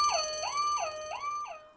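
An alarm siren wails in a steady up-and-down cycle. It repeats about four times, loud and alone, with no voices over it.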